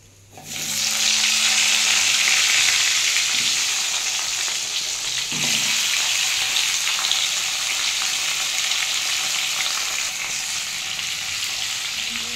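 Potatoes and tomatoes sizzle steadily in hot oil with salt and turmeric, a dense, continuous frying hiss that swells up early and holds loud and even throughout, with a faint stir or two.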